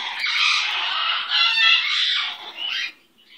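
A pet bird lets out a loud, harsh, sustained squawk close up, ending with a final shorter screech before it cuts off into near silence.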